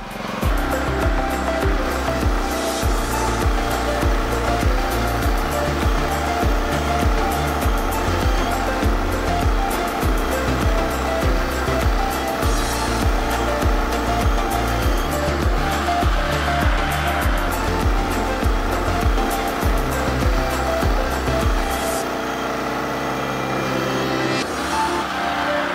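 A Firman FGW160A portable gasoline welder's engine runs steadily and loudly at close range, a constant droning hum with a dense mechanical buzz, dropping slightly in level near the end.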